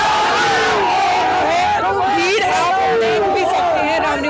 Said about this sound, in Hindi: किस तरीके से भारी भीड़ जो है आप यहाँ पर देख सकते हैं